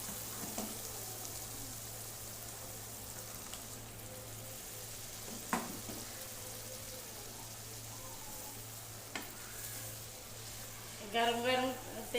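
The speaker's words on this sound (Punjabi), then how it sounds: "ਹੁਣ ਤੜਕੇ ਦੇ ਵਿੱਚ ਸਬਜ਼ੀ ਪਾ ਲਵਾਂਗੇ" Black chickpea curry frying in a hot tempering, a soft continuous sizzle with a few sharp clicks and stirring sounds, and a voice speaking briefly near the end.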